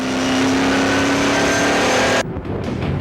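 ASA Speed Truck racing at Firebird in Chandler, Arizona, heard onboard during a lap: a loud sustained engine roar at high revs that drops abruptly near the end.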